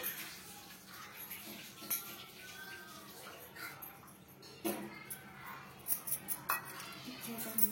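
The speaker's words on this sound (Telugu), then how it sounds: "మిక్సీకి పట్టుకున్న ఖర్జూరం అలాగే తేనె వేసి బాగా కలుపుకోవాలి" Ground dates and honey being stirred together in a pan, with quiet scraping and a few light clinks of a spoon against metal, faint and close, under occasional soft speech.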